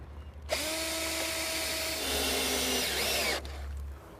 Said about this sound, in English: So we're drilling our pilot holes for our safety bolts.